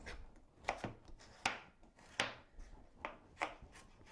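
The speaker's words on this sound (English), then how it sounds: "I'm now going to finely chop some carrot with the garlic and carrot mixture" A knife chopping carrot with garlic on a cutting board, sharp irregular taps close by and fairly quiet, with brief pauses between strokes.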